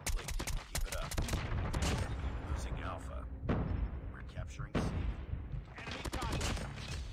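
An SKS rifle fires in COD Mobile, a rapid string of sharp, punchy shots layered with game effects and impacts, loud and continuous, with brief gaps between volleys.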